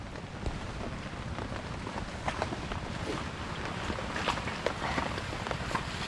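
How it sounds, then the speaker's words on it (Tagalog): Steady rain pours down on a taro field during harvest, a dense continuous hiss with scattered nearby drops and patters, fairly quiet overall, with no voices. "Yan ang ulan po, ang hirap gumalaw."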